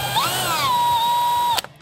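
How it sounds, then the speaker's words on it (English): A power drill with a 3/16 inch bit bores a hole through a bracket on a bed-liner-coated truck bed, giving a loud steady high whine that rises briefly at the start and cuts off sharply at the end. "So once you've got those marked, we can just go ahead and drill out our hole."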